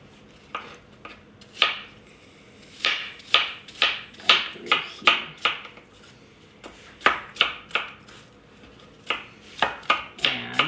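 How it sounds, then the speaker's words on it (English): A knife roughly chopping apples for apple fritters on a cutting board: a string of sharp, close thuds in quick bursts with short pauses between them, loud and alone. "I'm just doing a kind of a loose chop over them, making sure none of my pieces are too big"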